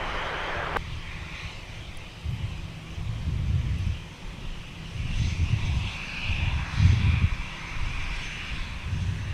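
Airliner engines drone at a distance at Minneapolis–St. Paul Airport as a plane taxis, a low rumble swelling and fading in waves with a thin steady whine above it.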